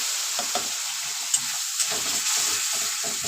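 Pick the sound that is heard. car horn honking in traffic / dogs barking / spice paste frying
spice paste frying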